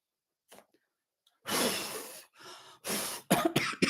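A close, harsh fit of coughing: a few faint sounds, then several loud rough coughs in quick bursts.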